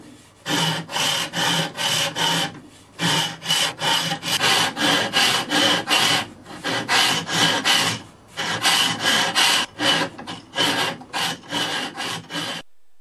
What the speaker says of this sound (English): chisel working on the inner edge